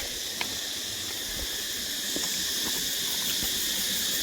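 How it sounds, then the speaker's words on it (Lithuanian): Cicadas near the Ba Ho waterfalls outside Nha Trang, Vietnam, keep up a steady, dense high-pitched buzz that fills the tropical forest, continuous and fairly loud, with scattered faint clicks and no voices. "o cikados duoda stipriai."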